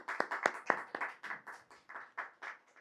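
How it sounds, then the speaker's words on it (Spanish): During a Shabbat worship service, a congregation claps in time, a quiet, regular beat of about four claps a second that holds evenly and fades slightly toward the end. "Bate tus palmas al Rey de la Gloria"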